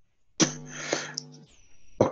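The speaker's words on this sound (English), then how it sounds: "cough." A single person coughs, a short harsh voiced bark with a quick second catch, followed moments later by another brief cough burst; nothing else is heard around it.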